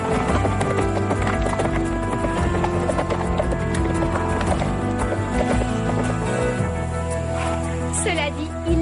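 Horses galloping with rapid hoofbeats and occasional neighing, mixed with music and people talking over them.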